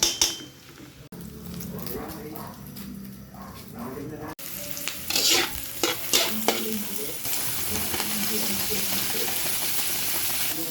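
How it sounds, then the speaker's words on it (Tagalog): Fried rice with egg and hotdog being stir-fried in a pan, a steady sizzle under repeated scraping and clanking of a utensil against the pan, close and continuous throughout. "magpa-fried rice tayo kahit ang sahog lang ay itlog at hotdog"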